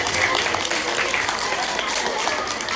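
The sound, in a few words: audience applause at a school assembly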